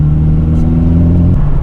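Engine of a 1986 Ford Capri 2.0 with a Pinto engine running loud and close while driving, a steady low drone with a slight dip and stumble near the end hinting at a splutter.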